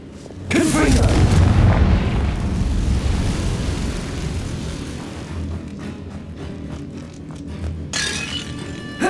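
A fiery blast spell in the Hogwarts Legacy video game erupts in a loud, deep boom that rumbles and slowly fades over several seconds, followed by lighter clattering and a second burst near the end.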